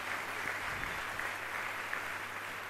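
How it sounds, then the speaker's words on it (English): An audience applauds devotees on stage at an ISKCON celebration at Hare Krishna Hill, producing steady, moderately distant clapping that fills the whole stretch without voices. "Request a round of applause for all the devotees on the stage."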